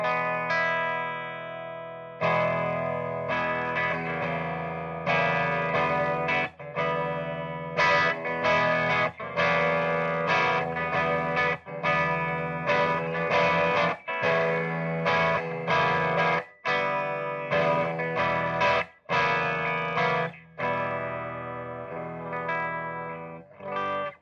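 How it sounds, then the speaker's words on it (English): Clean electric guitar tone from a 1989 Epiphone USA Pro on its humbucker pickup, played through an Orange PPC 2x12 cabinet with Creamback speakers; sustained chords and notes ring continuously with brief gaps, loud and close, no talking. "So we should get a pretty good representation of what this guitar sounds like through this orange PPC 2x12 cab with creambacks"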